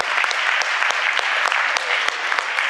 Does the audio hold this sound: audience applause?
yes